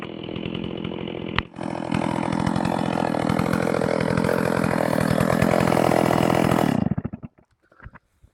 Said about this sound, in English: I've just been chopping up a little bit of firewood, taking the chainsaw for a slow walk through some windfalls